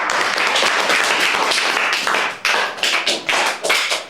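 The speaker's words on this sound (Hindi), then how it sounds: "ताली बजाओ बाबू की।" Children at an old government village school clap for a boy: close, ragged hand-claps from a small group, dense at first and then breaking into choppy, uneven bursts before stopping.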